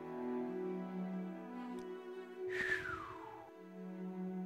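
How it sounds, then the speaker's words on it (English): A faint whistle gliding downward in pitch, from townspeople in the video game Morrowind, rises briefly over a quiet sustained tonal game background. "Why is everybody suddenly whistling?"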